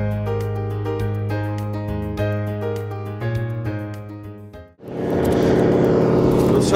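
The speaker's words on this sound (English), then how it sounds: "There's several float planes in the area that we charter." Float plane engine, such as a Cessna, Beaver or Turbo Otter, at a fishing lake camp. It rises into a loud, broad roar partway through and holds steady, following a stretch of harmonic tones that may be a near engine.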